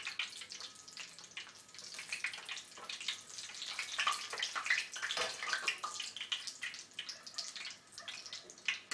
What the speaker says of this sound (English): I just washed my strainer, so you hear the water.